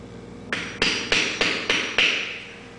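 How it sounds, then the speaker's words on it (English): A hammer compacts clay kitty litter into a KNO3 rocket tube, striking six sharp, evenly spaced blows up close, each leaving a brief ringing decay. "keep putting clay in there and mashing it down with the hammer and the battery until it's all the way full."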